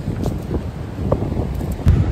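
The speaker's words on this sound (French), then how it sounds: "C'est le vent." Cold, gusty wind at a rocky outdoor spot buffets the microphone with low rumbling bursts, rising and falling over a couple of seconds.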